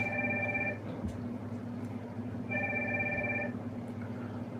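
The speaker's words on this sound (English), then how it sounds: "Why is that ringing?" A telephone bell rings in two clear bursts separated by a pause, fairly loud and steady, with no talking over it.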